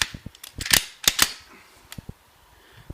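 An AEA .30 caliber SF air rifle fires at an outdoor range. A few sharp, loud cracks come close together, with softer mechanical clicks scattered around them and no talking.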